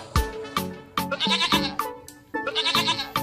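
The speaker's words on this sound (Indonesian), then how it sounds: "Widih, di sini ada si hewan kambing teman-teman." Goats bleat repeatedly at an Eid al-Adha sacrificial livestock pen, several loud wavering calls following one another at close range with no talk over them.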